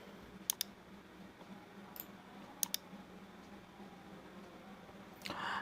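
Mouse clicks at a computer desk, sharp and quiet, in a quick double click, a single click and another double click, over a steady low hum, with a brief rustle at the end.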